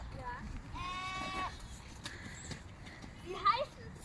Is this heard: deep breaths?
no